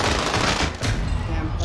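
Dense automatic gunfire in Call of Duty Warzone, loud and continuous rapid bursts that fill the short moment.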